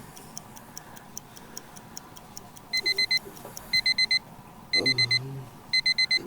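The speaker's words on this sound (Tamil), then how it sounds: "அலாரம் அடிக்கும்." Soft ticking runs first, then an alarm clock rings in four repeated bursts of rapid high beeps, each a short pulsing cluster.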